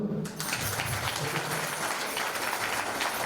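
An audience at an Art of Living spiritual gathering in Palakkad applauds, a dense, steady wash of clapping that fills the whole clip after a brief quieter start.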